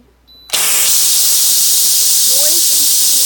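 An Instant Pot vents steam while chowder is cooked, a quiet start giving way abruptly to a loud, sharp, continuous hiss that holds to the end.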